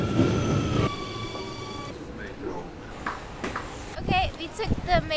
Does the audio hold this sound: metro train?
yes